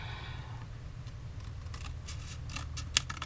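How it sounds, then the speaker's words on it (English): Paper snips cut through cardstock, giving a few quick crisp snipping clicks over a low steady hum, close and fairly faint, with a sharper snip near the end. "I'm going to use my paper snips to do that."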